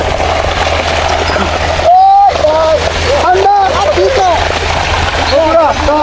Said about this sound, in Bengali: এখানে কিন্তু আমার তরমুজটা ধুয়ে নিচ্ছি ভালো করে